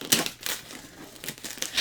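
Dolly Parton-themed birthday wrapping paper crinkles and rustles in close, brisk bursts as it is torn open, with a few sharp crackling peaks.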